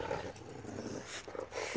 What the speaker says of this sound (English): That was a great example of a growl.